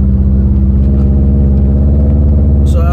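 Subaru WRX STi with an aftermarket Fujitsubo exhaust, a loud, close, deep idle-like engine rumble with steady boxer-style throb, and a brief higher sound near the end.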